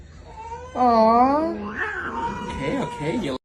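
House cat giving a long, loud wavering meow, drawn out and whiny, followed by a few shorter chirpy mews with a person talking softly around it.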